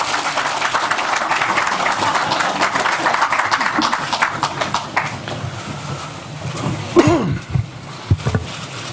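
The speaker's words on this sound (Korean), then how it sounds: "힘찬 박수로 맞이해 주시기 바라겠습니다" Warm, sustained applause fills a party policy caucus hall to welcome the floor leader, steady clapping fading after several seconds into scattered claps and room noise.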